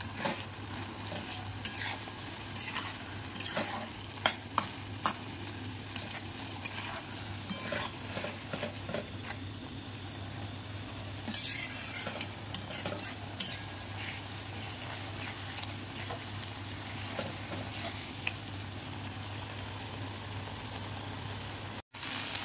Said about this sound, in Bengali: দেখো আমার ছাতু ভাজা হয়ে গেছে। দেখো একদম পুরো তেল ছেড়ে দিয়েছে